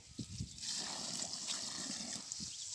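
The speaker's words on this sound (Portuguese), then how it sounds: "Eu boto um pouquinho d'água que fica melhor." Water is poured onto soil while planting a seedling, a steady close trickle and splash that runs almost the whole time at low volume.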